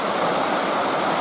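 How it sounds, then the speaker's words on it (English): Water rushing steadily toward Lake Superior near a beach, a loud, dense, unbroken roar of flowing current with no voices. "And all that water coming through."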